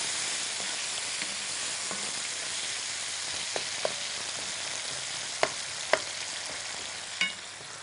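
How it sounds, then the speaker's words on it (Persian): Eggplant stirred into onions frying in a pot gives a steady soft sizzle, with occasional sharp scrapes and clinks of a spoon against the pot. "باید که بادنجان رو میره اضافه کنیم و مخلوط شام کنیم"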